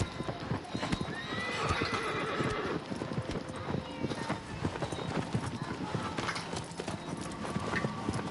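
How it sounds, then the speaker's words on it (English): A horse ridden through open landscapes in Shadow of the Colossus, steady rhythmic hoofbeats clopping close by with a whinny breaking through, while a voice talks over the riding. "riding on horseback through these landscapes"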